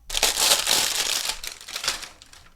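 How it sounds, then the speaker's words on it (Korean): Plastic wrap being peeled off a ball of yarn, with close, loud crinkling and crackling that comes in bursts and then fades. "우선 비닐을 벗기고 이 안쪽에 손을 넣어서 끝실을 찾아서 시작해 줄게요"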